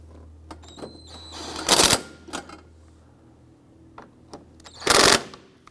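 Ratcheting and tightening of torque strut bolts on an Acura TL transmission mount, with short clicky bursts and two louder spells of rapid ratchet or impact-tool noise under a faint background hum.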